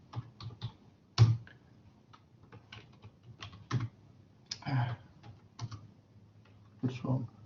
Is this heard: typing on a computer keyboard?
yes